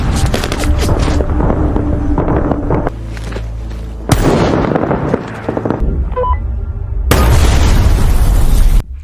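A film bomb blast booms with heavy, rumbling bursts and crackling debris, loud and close. Two sharp detonations stand out among the rolling noise.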